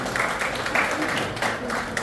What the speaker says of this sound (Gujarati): આપણે તાળીઓથી તેનું અભિવાદન કરીશું.